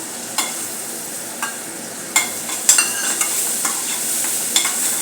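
Finely chopped garlic being sautéed in a pan, a continuous soft sizzle broken by several sharp spatula scrapes and taps, close up, with no talking.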